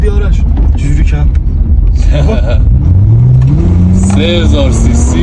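A 3000 cc car engine drones during a ride on GT tyres, a steady rumbling hum that climbs in pitch as it accelerates, close and loud, with voices talking over it.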